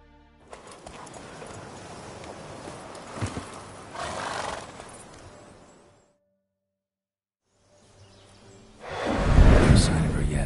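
Roach, a horse in a video game, neighs and whinnies loudly amid clip-clopping hooves and whooshing sound effects, breaks off into a few seconds of silence, then returns with a strong, close burst of horse sound.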